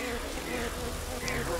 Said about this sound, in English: I do love it when any game gives you bees as a weapon